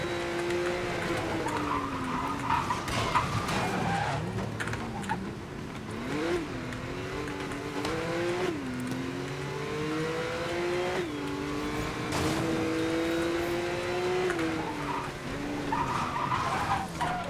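Race car in the video game Need for Speed: Most Wanted (2012), an Alfa Romeo 4C Concept on track tires, engine revving and shifting through gears with repeated tire skids and squeals, loud and continuous throughout.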